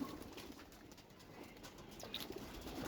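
Pigeons in a loft coo softly at feeding time, a low continuous murmur over faint background noise, with no one talking.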